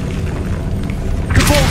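In Hogwarts Legacy, the Incendio fire spell is cast, building from a low rumble of ambient game sound into a sudden whooshing fiery burst near the end, brief and forceful.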